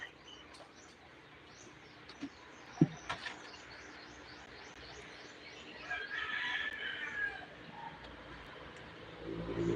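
Birds call and chirp outdoors in a quiet setting, a short sharp call near the middle and a brighter burst of twittering later, with faint traffic behind.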